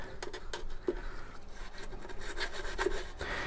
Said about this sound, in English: I'm using just an ordinary brush for bottles.